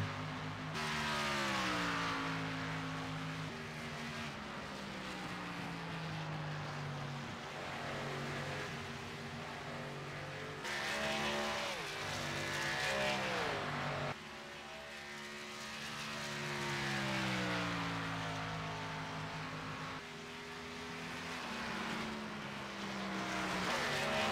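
K&N Series stock cars roar around Homestead Miami Speedway, a loud continuous engine drone whose pitch rises and falls as cars pass and shift, with no talk over it.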